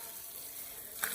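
Water sprayed at animals on a Maharashtrian farm, a steady hiss of spray that swells into a louder gush near the end, close by and without voices.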